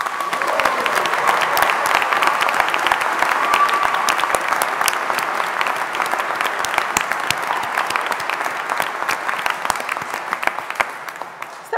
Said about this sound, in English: give a huge round of applause for the graduates of the University